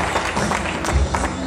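Audience applause at an Expo Learning event, a steady wash of many hands clapping for a brief moment, fairly full and close, with no voices over it.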